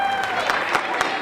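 A crowd claps and cheers at an airport welcome for arriving Honor Flight veterans, a steady dense wash of applause throughout with a few louder bursts.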